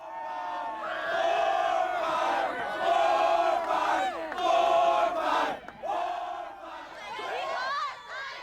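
A loud crowd at a high school homecoming football game cheers and yells in sustained waves, dipping briefly near the end before swelling again.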